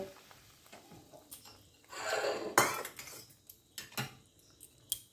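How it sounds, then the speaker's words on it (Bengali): Fried katla fish pieces go into a pan of rezala gravy, with a clatter of utensils against the pan, a brief louder burst of handling and sizzle, then scattered light clinks and taps. "ভাজা মাছগুলো দিয়ে দিচ্ছি"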